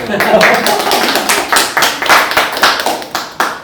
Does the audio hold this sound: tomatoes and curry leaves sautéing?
no